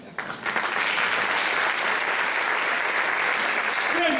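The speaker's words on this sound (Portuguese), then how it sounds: "Você pode aplaudir o Luciano" Audience at a ministers' gathering breaking into loud, dense applause that swells within half a second and holds steady, with a brief voice near the end.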